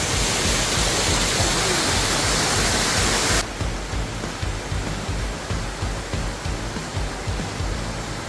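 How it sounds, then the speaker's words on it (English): Waterfall at Petit Jean State Park, Arkansas, in heavy flow, a loud dense hiss of rushing water that drops to a slightly softer roar partway through, steady and uninterrupted, no voices. "This waterfall is flowing like crazy."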